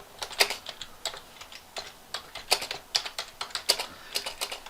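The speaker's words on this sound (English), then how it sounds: "all you do is type in the information you want." Typing on a computer keyboard, a close run of crisp key clicks in an uneven rhythm with occasional louder strokes, heard alone in a quiet room.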